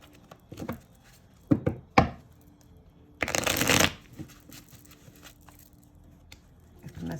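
A tarot card deck is handled and shuffled, with a few sharp slaps and riffles followed by a longer, dense riffling burst, close and clear in an otherwise quiet room.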